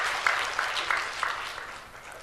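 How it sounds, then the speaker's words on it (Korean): A church congregation claps together in worship, a dense, steady wash of applause in a reverberant hall that stays fairly even and fades slightly toward the end. "우리 하나님께 영광의 박수로 영광 돌리겠습니다."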